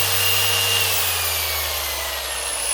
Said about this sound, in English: So I've got my polisher, cutting bed, cutting compound